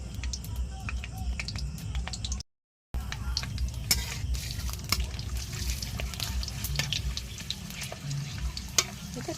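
A small papad drops into oil that is not yet fully hot and fries with a soft, bubbling sizzle, close-up and continuous, with scattered clicks and a brief gap of silence partway through.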